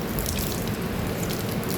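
Water poured over a BMW car during a wash, a steady close trickling splash that runs unbroken and fairly quiet for the whole short moment.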